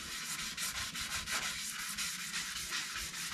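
Light scuff-sanding of varnished teak on a sailboat with a sanding sponge, a close, steady rhythmic rasp of repeated back-and-forth strokes with no talk.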